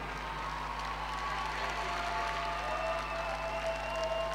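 Steady applause from an audience at a youth sports closing ceremony medal presentation, continuous clapping at moderate volume with a faint low hum beneath.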